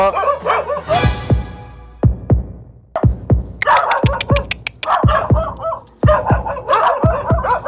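Loud, close dog barks in quick bursts, some high yips mixed in, with brief pauses between volleys.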